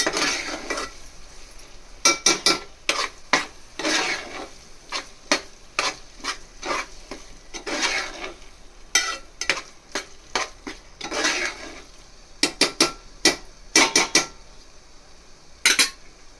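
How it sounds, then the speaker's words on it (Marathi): Pav bhaji masala with onion and tomato being stirred and sautéed in a pan, with repeated metal spoon scrapes and clinks against the pan in an uneven rhythm over a soft background hiss, close and fairly loud. "चांगलं परतून घ्यायचं व्यवस्थित."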